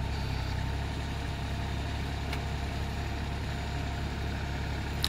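A weak spinning motor runs at a steady, unchanging low hum, moderately close and alone, with no voices and no change in speed.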